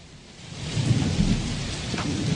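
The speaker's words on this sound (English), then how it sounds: "Sounds like weather effects. Do I hear rain?" Rain and thunder weather effects in the game Fallout: New Vegas, with a steady wash of rainfall and a low thunder rumble swelling up and lingering, loud and enveloping.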